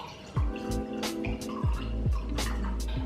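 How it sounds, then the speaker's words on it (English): Wine is poured from a bottle into a glass in a series of gurgling glugs that rise in pitch as the glass fills. The pour is close, clear and unaccompanied by speech. "So I'm just gonna pour myself a glass."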